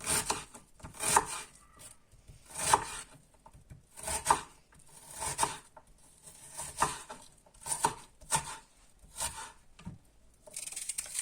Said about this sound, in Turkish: Soğanı ince ince doğrayalım